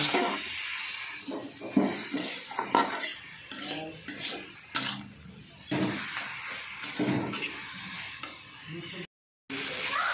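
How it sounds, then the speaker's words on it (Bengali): Gima greens with salt and turmeric stirred in a pan with a utensil: close, irregular metallic scraping and clinking strokes over a faint hiss, with brief pauses and a short silent gap near the end. "দিয়ে এবার ভালো করে নেড়ে নিচ্ছি"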